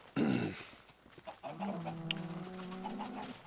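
Minecraft chickens cluck from a farm pen, giving a few short clucks and one drawn-out tonal cluck, fairly faint and with no talk over them.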